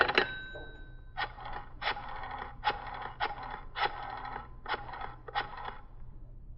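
A telephone is put to use to ring an office in a 1950s police radio drama: a quick click, then a steady run of about seven evenly spaced mechanical bursts like a dial turning, fairly close and clear with no talk over it.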